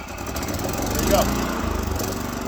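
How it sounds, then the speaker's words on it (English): A portable generator engine runs just after starting, a close, steady, rough mechanical chugging throughout. "once I turn it to run and actually turn the fuel on, it started right up, right out of the box"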